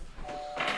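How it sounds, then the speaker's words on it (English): A short electronic doorbell chime rings once, a brief two-tone ding-dong heard indoors, fairly faint and over almost at once. "That's not a sandstorm, that's my doorbell."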